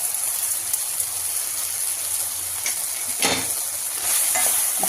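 Tomatoes with turmeric and salt get stirred in a hot pan, a close, continuous sizzle with a few sharper scraping strokes of the spoon.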